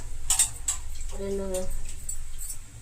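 Water runs from a tap while a handful of small, very hot green chillies are rinsed, making a soft splashing trickle with light clinks. A voice speaks briefly over the running water.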